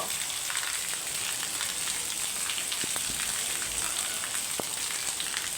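Rain falling steadily in Jamnagar, a continuous soft hiss with scattered faint drips, fairly quiet and without speech.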